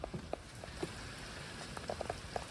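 Rain falling outdoors beside a Honda Element camper: a steady, close hiss of drizzle with scattered drips and soft taps landing irregularly on nearby surfaces, with no voices.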